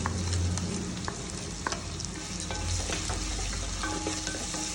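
Onions frying with rock salt in a pan for a Chettinad pal sura fish kulambu, a continuous close sizzle broken by a few stirring scrapes, with no voices.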